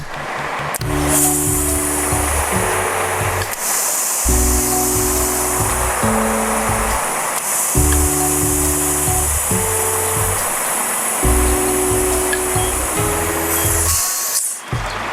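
An air pump hisses steadily while inflating a car tire that had gone soft, with a loud continuous rush of air, a rhythmic mechanical drone underneath and short breaks between bursts.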